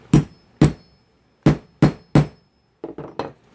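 A hammer strikes to set a grommet: eight sharp, close metallic blows in irregular rhythm, five heavy ones followed by three lighter taps, with silence between.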